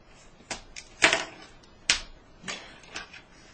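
A blade cuts through flexible moulding material in a few sharp, close snips and slices, with separate crisp cuts spaced about half a second apart and one heavier cut near the start.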